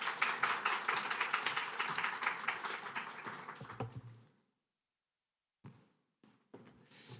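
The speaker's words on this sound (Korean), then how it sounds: "박수로 맞이하도록 하겠습니다" A church congregation at a Sunday service claps to welcome the pastor, a brisk, rhythmic clapping at moderate volume that fades out after about four seconds into silence, followed by a few brief isolated sounds.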